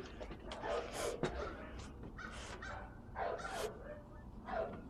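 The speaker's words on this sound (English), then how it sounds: "Dogs are barking." Several dogs bark and yip in short bursts, fairly faint and somewhat distant, with whimpering between the barks.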